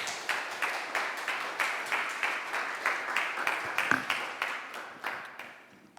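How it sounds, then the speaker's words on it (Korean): A church congregation at a Friday worship service claps to welcome the pastor, a rhythmic, fairly even patter of hands that carries through and thins toward the end. "우리 목사님 나오실 때 한번 박수로 한번 환영해 주십시오"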